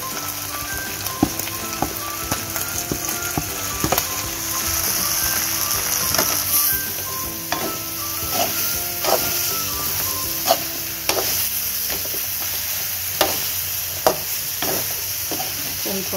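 Ginger garlic paste with cinnamon, clove and spice powder frying in a pan for chicken pepper dry, a steady soft sizzle with scattered crackles and occasional stirring clicks, close and continuous with no talking.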